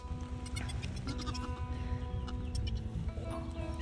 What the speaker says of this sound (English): today, we got baby goats. They were just born on the farm.